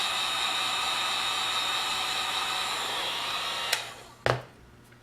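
Heat gun blowing a steady, loud stream of hot air over fresh pearl paint on a 1/350 scale Polar Lights Enterprise refit model kit, a constant broadband rush that cuts off near the end, followed by two sharp clicks.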